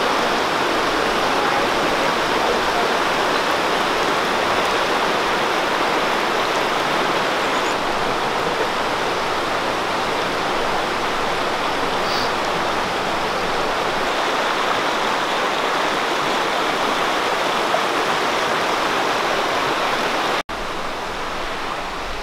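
Jones Hole Creek in Utah rushes steadily in a loud, close, unbroken wash of flowing water for about twenty seconds before cutting off abruptly, with no voices.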